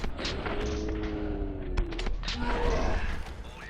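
Rapid gunfire from a fully automatic shotgun in Call of Duty: Modern Warfare 2, dense overlapping blasts with booming low end and a constant loud battle din throughout.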